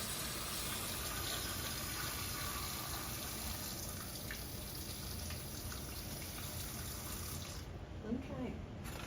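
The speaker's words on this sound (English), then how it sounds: "So these have been drained, and I've added some more water" A tap runs water into a pot of drained rutabagas in a kitchen, a steady, even gushing stream lasting several seconds, moderately close, ending with a brief clatter.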